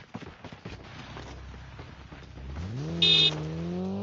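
Car engines in the video game Call of Duty Mobile, a low rumble that revs up into a rising whine, with a short high-pitched beep near the end and no talk.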